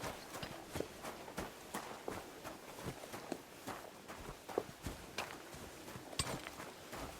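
Horse hooves clip-clop in a steady walking rhythm on a hard surface in the medieval game Kingdom Come: Deliverance 2, the footfalls close, quiet and evenly spaced with no voices over them.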